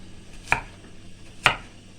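A knife chopping green apples with the skins left on makes two crisp, separate cuts about a second apart, close by and otherwise quiet.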